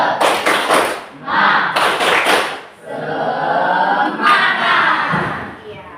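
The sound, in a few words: class doing the rhythmic spirit clap (tepuk semangat)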